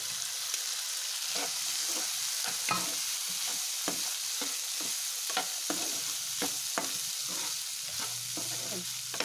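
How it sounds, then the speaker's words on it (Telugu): Boiled black-eyed peas being stirred with onions in a hot pan, a steady close sizzle of frying broken by repeated scraping and clinking strokes of a spoon against the pan, with no talk. "ఇప్పుడు మనం ముందుగానే బాయిల్ చేసి పెట్టుకున్నాం కదా అలసందలో అలసందలు మిక్స్ చేసుకోవాలి"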